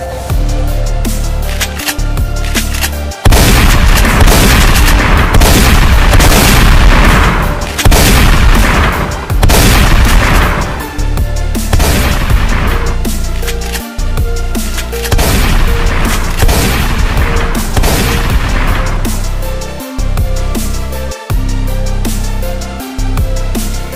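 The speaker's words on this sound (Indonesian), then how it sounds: "Rasakan senjata pertamaku, bom muter-muter." Explosions from Iron Man's spinning bomb weapon in a game, a dense and loud stretch of repeated booms and blasts that runs almost without a break.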